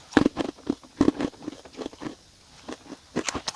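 Close-up crunching bites and chewing of a salty, skin-on wedge potato snack sold at 7-Eleven, heard as irregular crisp bursts in small clusters with quiet pauses between, and no talking.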